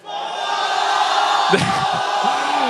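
A large esports arena crowd at a 2014 NA LCS summer League of Legends match cheers and roars as a steady, dense wall of sound, with a brief muffled voice cutting in partway through.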